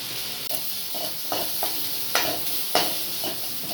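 A spoon stirs chana masala and pepper into chickpea sundal in a pan, with soft scraping strokes and a few louder clinks against the vessel over a faint sizzle, close up and with no talking.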